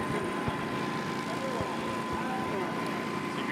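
A one-third-scale replica of the World War II Fieseler Storch spotting aircraft flies at an evening STOL airshow, a steady propeller drone with a constant tone running throughout, partly masked by crowd and ambient noise.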